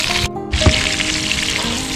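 Sausage frying in oil and butter inside a Dutch oven, a steady close sizzle that carries through with a brief dip and a few soft clatters, no talking.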